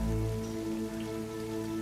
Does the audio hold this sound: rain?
yes